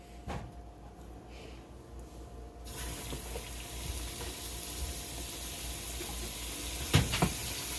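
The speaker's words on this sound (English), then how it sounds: "So we're going to put our Jamaican fried dumpling in our oil now" Jamaican fried dumpling dough drops into hot oil and a steady, bright sizzle starts abruptly and keeps going, with a couple of small clunks of a utensil near the end.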